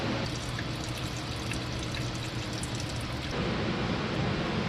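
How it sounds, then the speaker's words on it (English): Antifreeze drains from a truck radiator in a steady, close pouring stream that splashes and trickles without a break, with no one talking. "Draining the antifreeze out of it now."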